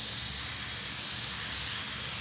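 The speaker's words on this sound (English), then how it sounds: "we'll place it on our griddle" Bread spread with Russian dressing sizzling on a hot griddle, a steady, dense hiss running unbroken at even loudness throughout, close and without talk.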